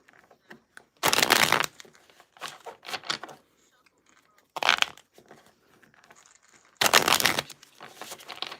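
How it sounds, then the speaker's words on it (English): An oracle card deck is shuffled by hand in three quick, papery riffling bursts, close and fairly loud, with softer handling rustles between them. "So let me shuffle the oracle deck."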